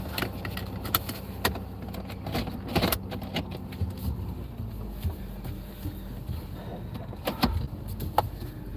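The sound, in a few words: car driving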